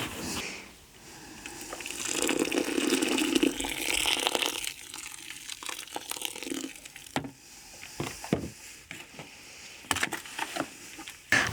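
Boiling water pours and splashes into soil in a rushing burst early on, followed by scraping, crunching stirring sounds with irregular knocks.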